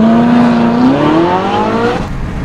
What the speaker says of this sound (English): Incredible acceleration in this Grand Prix.